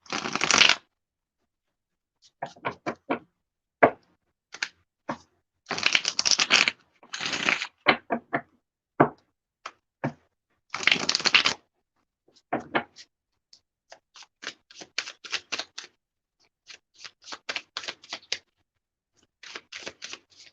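Gilded Tarot deck shuffled by hand, with crisp riffling bursts and scattered soft card taps and slides in an uneven rhythm, close and fairly quiet, with no talk.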